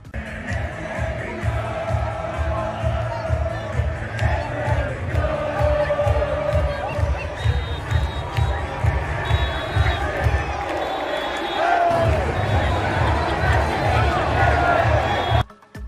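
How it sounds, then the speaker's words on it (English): A massive crowd of West Ham fans fills the streets of East London at the trophy parade after the Europa Conference League win, a continuous loud roar of cheering and chatter with no break. "A massive crowds gathered to watch team parade trophy through East London."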